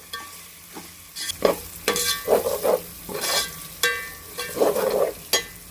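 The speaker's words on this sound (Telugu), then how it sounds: "ఇది మసాలా వేసాక మేము కొంచెం ఫ్రై చేసుకోవాలండి" Ginger-garlic paste masala frying in oil for Nellore-style chicken biryani, a spatula scraping and stirring in repeated strokes over a crackling sizzle, close and fairly loud with no speech.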